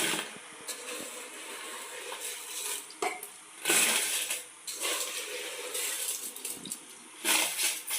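Rice tipped into a pot of boiling coconut milk, heard as soft pouring and stirring bursts with clinks over a steady bubbling hiss, close by and moderately quiet.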